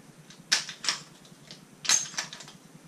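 Shotgun shells quad-loaded four at a time into a magazine tube: a few sharp metallic clicks and slides in quick pairs with a gap between, close and crisp with no talking.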